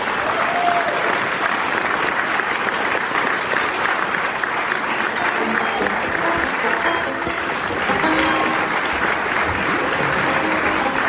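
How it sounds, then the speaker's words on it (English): Sustained audience applause at a cannabis-themed live event, steady and loud throughout with dense clapping and a little crowd noise mixed in. "all these great organizations that do deserve a round of applause."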